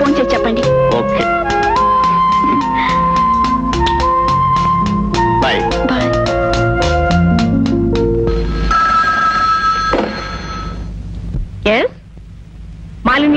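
An old-style telephone rings loudly in a rapid run of repeated bright bell tones, then cuts off, leaving a quieter stretch with a few brief sounds.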